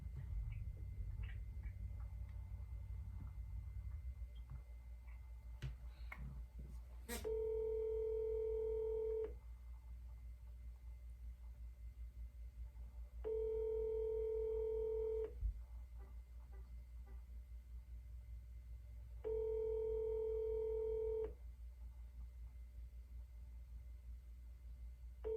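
A telephone dials out to add a third caller, with three long, steady ringback tones evenly spaced over a low background hum and a few faint clicks before them, and no voices.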